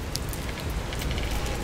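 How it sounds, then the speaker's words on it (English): Rain falls outdoors as a steady, dense hiss of drops pattering on surfaces, continuous and fairly loud throughout the short stretch, with no talk. "It's raining out there."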